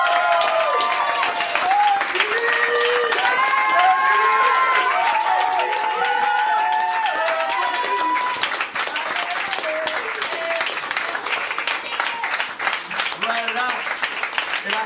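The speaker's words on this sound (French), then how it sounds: "s'il vous plaît, applaudissez." Audience at an improv theatre show applauding and cheering: a loud crowd clapping with whoops and raised voices over it, the cheering fading after the first half while dense clapping carries on.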